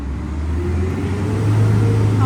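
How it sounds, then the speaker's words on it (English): A loud, steady low engine rumble of a garbage truck nearby, droning continuously and swelling slightly toward the end. "that's the garbage truck being super loud"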